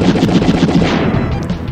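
An explosion rumbles in the retro shooter Wild Guns, a loud dense blast of booming, gunfire-like crackle that holds steady and then slowly fades.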